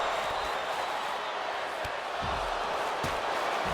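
Arena crowd noise from a WWE 2K25 NXT Tag Team Championship match in an NXT Heatwave pay-per-view, a steady loud roar of chanting fans with a few sharp impact thuds cutting through.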